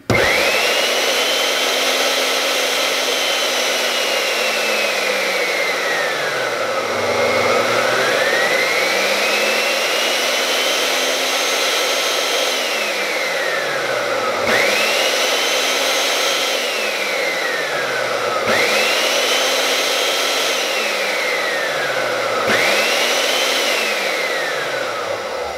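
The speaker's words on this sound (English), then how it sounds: "For demonstration purposes only, I ran this pump dry." A Kohler whirlpool bath pump runs dry, giving a loud continuous motor whine that repeatedly swoops down and climbs back up in pitch as its speed cycles, close and steady throughout.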